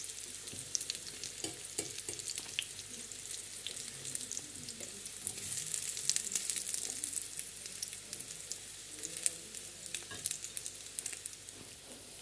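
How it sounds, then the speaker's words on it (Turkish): Meatballs (köfte) sizzle and crackle in a hot pan, a steady hiss with scattered pops and occasional clinks of stirring, fairly quiet and close. "Şöyle kofte kızartıyor."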